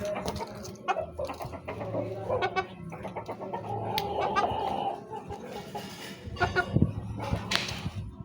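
Chickens cluck and squawk nearby in a busy, irregular chorus, with scattered sharper calls and some background movement.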